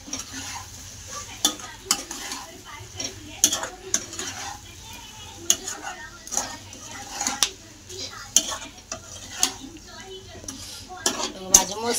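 Brinjal and potato dry curry being stirred in a pan, with a spoon scraping and clinking against the metal in irregular strokes over a soft sizzle, fairly close.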